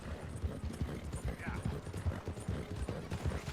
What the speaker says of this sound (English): now we're going to watch the same finish if the horses had all started together